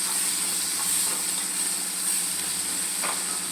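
Potatoes sautéing with browned onion in a pan give a soft, continuous sizzle and hiss at moderate level, with a couple of faint stirring scrapes.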